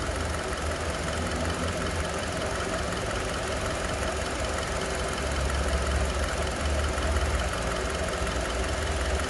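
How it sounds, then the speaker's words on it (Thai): The 2.0-litre i-VTEC engine of a 2003 Honda CR-V idles steadily and close by, a continuous even rumble with a faint knocking texture and no other sounds. "เสียงเครื่องเดินเบาเพราะมาก ๆเลยครับผม"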